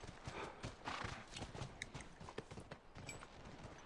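Horses in The Last of Us video game give rapid clip-clopping hooves, close and steady throughout, with a brief neigh partway through.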